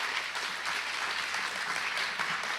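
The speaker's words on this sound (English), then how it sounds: "give them a round of applause for putting this together" Audience at an education technology showcase keynote gives a steady round of applause for the organizers, even, moderately quiet clapping throughout.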